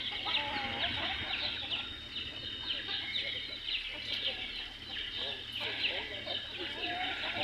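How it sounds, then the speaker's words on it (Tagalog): Chickens in a mountain farmyard in Lebanon cluck and chatter steadily throughout, several birds close by, over a constant low background hum, with faint voices mixed in. "Yan ang mga manok."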